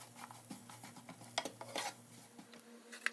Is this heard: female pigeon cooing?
no